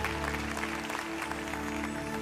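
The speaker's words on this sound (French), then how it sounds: "Give God a great round of applause for that." Church congregation applauds over a sustained organ or keyboard drone, the clapping a soft, continuous wash in the background, somewhat distant and fairly quiet, with no speech.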